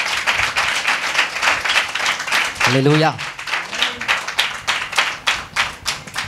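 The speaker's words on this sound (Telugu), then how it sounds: "For that just give claps to the lord Jesus Christ." A church congregation claps steadily in praise of the Lord Jesus Christ, a dense rhythmic crowd of hands sounding throughout, with a voice briefly calling out over the clapping midway.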